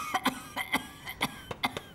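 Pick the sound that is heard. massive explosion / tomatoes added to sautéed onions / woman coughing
woman coughing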